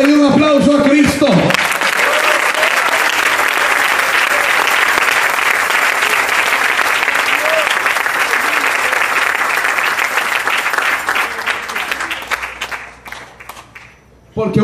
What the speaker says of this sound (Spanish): Que alguien le dé un aplauso a Cristo.